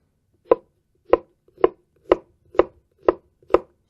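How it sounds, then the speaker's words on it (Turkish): Seven evenly spaced knife chops finely cutting onion strike a cutting board in a steady, unhurried rhythm, close and crisp. "Şöyle ince ince kıyıyorum soğanı."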